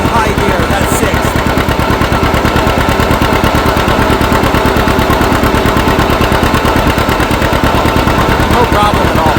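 Antique tractor engine running at full throttle in sixth, its high gear, while climbing a small incline, giving a loud, steady rapid chugging pulse that continues without a break.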